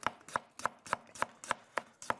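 A knife slices ginger on a cutting board, about eight crisp, evenly spaced strikes in quick rhythm, close and fairly quiet.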